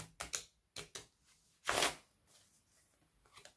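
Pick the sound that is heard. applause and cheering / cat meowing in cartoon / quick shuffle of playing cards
quick shuffle of playing cards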